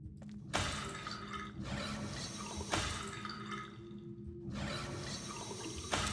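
Water trickles and flows continuously in the puzzle game Riven, with a few sharper drips and splashes standing out over the steady liquid wash, with no voices.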